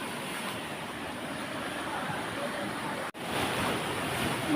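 Strong sea waves at a shoreline fishing spot roar as a steady, dense wash of surf with wind noise, continuous and loud throughout, broken only by a brief dropout near the end.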